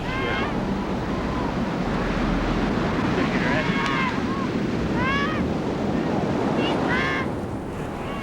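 Heavy ocean surf with big breaking waves in a large swell, a loud continuous roar with wind noise across the microphone and faint voices over it.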